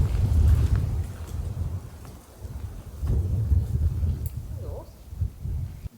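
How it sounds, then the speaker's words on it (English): Gusty wind at a bushcraft tarp camp roars in low, rumbling buffets against the microphone, rising and falling in strong surges. "Look at the wind."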